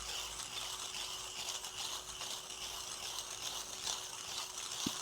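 A coffee grinder crushing beans gives a steady, even grinding rattle with no pauses, loud and unbroken for the whole stretch.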